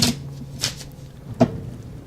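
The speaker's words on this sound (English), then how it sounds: "We are going to shuffle" Playing cards shuffled for initiative at a tabletop game, three short crisp riffling bursts spaced apart, close and fairly loud over a low background hum.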